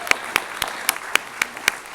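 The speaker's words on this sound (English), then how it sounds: "thank you, District Attorney Spitzer, and let's have a round of applause for the District Attorney and his entire team of Deputy District Attorneys." Sparse, evenly spaced claps at a town hall meeting, roughly eight sharp hand claps over two seconds, close and moderately loud, more like a single person or a few people clapping than full audience applause.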